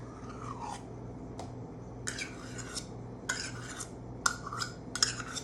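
Sour cream being stirred into banana bread batter in a bowl, with soft intermittent scraping and clinking strokes of a utensil against the bowl, close and fairly quiet.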